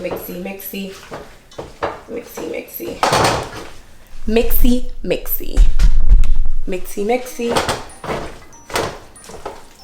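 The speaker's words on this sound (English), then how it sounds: "Half of that and the rest in here. Mix this up." String beans being stirred and mixed in a bowl for homemade French bulldog food, giving repeated clattering and scraping of utensil against dish, with a voice talking over it.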